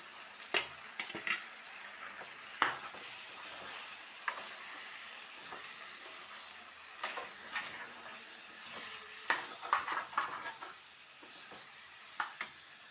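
Chicken fries in a pan with turmeric, coriander and chilli powder for a Bengali red lemon masala chicken. A soft, steady sizzle runs throughout, broken by sharp scrapes and clinks as a spoon stirs against the pot.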